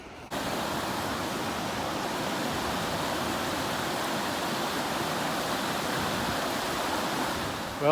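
Creek water pours over a road in the Middle Prong Wilderness of North Carolina, a constant rushing wash that stays even and fairly close throughout, with no voices.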